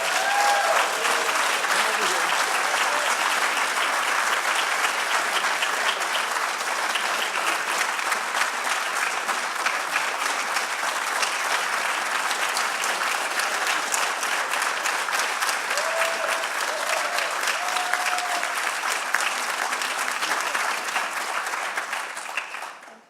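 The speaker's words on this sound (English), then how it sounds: "Please help me to recognize with your round of applause Ariano" Sustained applause from a live audience fills the hall as an advocacy award is presented at a substance-use recovery event, a dense, even wash of clapping that holds steady for over twenty seconds before ending abruptly.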